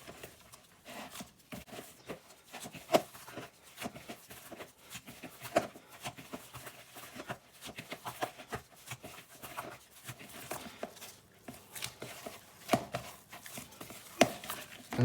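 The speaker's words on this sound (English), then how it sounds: "I'm just gonna give it a knead with my knuckles" Naan dough is kneaded with knuckles on a work surface, giving soft irregular thumps and squishes in an uneven rhythm, fairly close and moderately quiet.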